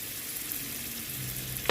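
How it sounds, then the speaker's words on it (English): A tablespoon of butter sizzles in a heated pot with a steady, close crackling hiss, ending in a brief metallic clink. "I'm going to be adding a tablespoon of butter to a heated pot"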